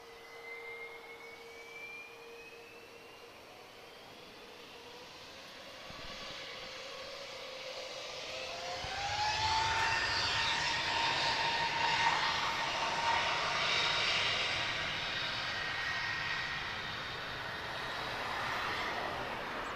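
A TAP Airbus A321neo jet moves at Lisbon Airport, its engine whine rising from a distant hum into a broad, louder roar that swells midway and lingers, heard from afar with no talking.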